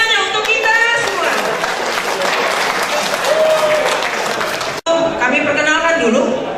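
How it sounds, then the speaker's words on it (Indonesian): Sustained applause from a large conference audience in Bekasi fills the hall, loud and dense, with a host talking over it and a brief drop near the end before the clapping resumes. "Tepuk tangan semuanya untuk kita semua."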